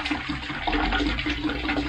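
Windshield washer fluid pours steadily into water to mix a saw-blade solution at a sawmill, a continuous close gushing and splashing with no talk.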